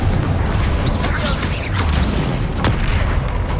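Confringo fire spells cast in Hogwarts Legacy, with dense repeated booming blasts and bursts under a steady roar of combat, loud and close, while a voice calls out spell names throughout.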